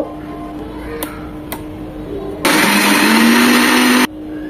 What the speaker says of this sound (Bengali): এগুলো এখন ব্লেন্ড করে নেব